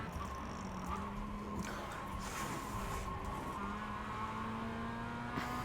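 A Mazda MX-5 race car in the iRacing simulator runs a fast lap, its engine a faint, steady drone with shifting pitch and a hint of tire noise, heard alone.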